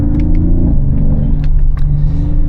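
A supercharged 6.2-liter Hemi V8 in a 2026 Dodge Charger Scat Pack with manual transmission rumbles loud and close, a deep, steady throb with no break.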